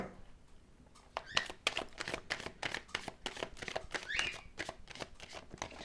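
Tarot cards shuffled by hand in a quick run of crisp riffling slaps and patters, close and clear after a brief quiet start, with no talking.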